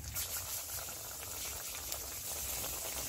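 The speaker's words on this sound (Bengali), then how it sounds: "এখন আমি এর মধ্যে এক এক করে চিপসগুলো ছেড়ে দেব।" Potato and pea chips frying in well-heated oil give a steady, dense bubbling hiss that runs unbroken and fairly loud throughout, with no voices.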